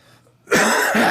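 After a quiet moment, a single loud, close cough bursts out, rough and throaty.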